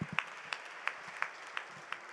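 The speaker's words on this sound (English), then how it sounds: "Please also give a big round of applause to the" A small audience at an educational research association launch claps for the local organizing committee: sparse, evenly spaced claps about three times a second, faint and a little distant, with no voices.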